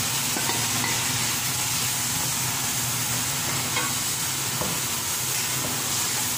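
Two chopped tomatoes fry and sizzle in a pan with masala for aloo keema, a steady close hiss with stirring scrapes, no talk.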